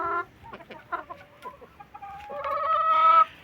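Young hens and roosters cluck and murmur nearby in short broken calls, building to a louder, drawn-out squawk toward the end.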